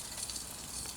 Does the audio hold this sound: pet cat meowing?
no